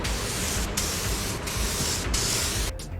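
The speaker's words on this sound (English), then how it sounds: "I did figure out how to use a spray gun" A cheap Harbor Freight spray gun sprays PVA release agent while building a carbon-fiber car wing: a loud, steady broadband hiss broken by a few brief pauses, close to the listener, with no talking.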